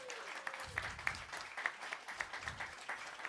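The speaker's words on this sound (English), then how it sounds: "Round of applause for our volunteers." A congregation at a church celebration gives a round of applause for the volunteers, sustained clapping from many hands heard from some distance, fairly faint but even throughout.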